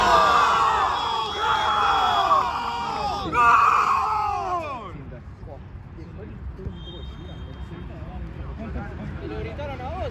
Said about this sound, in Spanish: Lo gritaron a vos, árbitro.